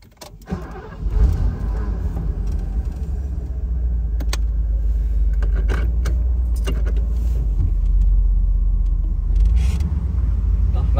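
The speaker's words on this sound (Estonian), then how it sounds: "Nagu on kuulda, see suur mootor, see teeb ikka väga-väga mõnusat mehist mürinat." An old Mercedes convertible with a big engine rumbles with a deep, steady low-end drone that swells after a start and holds close and loud, with faint clicks and rattles on top.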